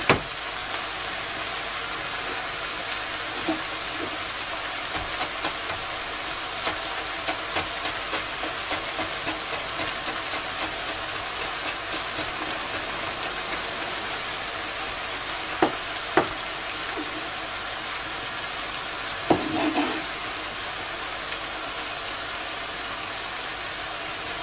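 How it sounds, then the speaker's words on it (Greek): Minced meat fries in a pan with a constant, dense sizzling hiss that holds steady and close, with a few soft knocks of stirring. "Όσο τσιγαρίζεται ο κιμάς μας για να πιει όλα του τα υγρά"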